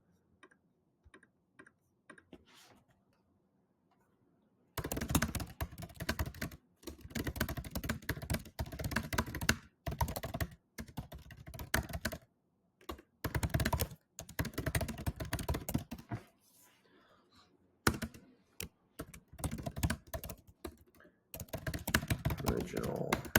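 Someone types a listing description on a computer keyboard: close, clicky bursts of rapid keystrokes separated by short pauses, with a few quieter taps at the start.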